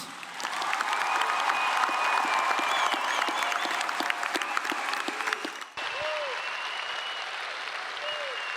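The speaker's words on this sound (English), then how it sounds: "Let's give them all a round of applause." Large graduation-ceremony crowd at a university commencement applauding the graduating class, a dense, sustained wash of clapping that holds steady, dips briefly near the end, then continues with some voices mixed in.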